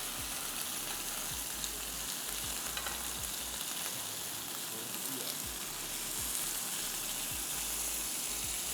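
Flipped chicken pieces sizzle steadily on a hot grill pan, a dense, even crackle that holds for the whole stretch with occasional soft knocks and scraping.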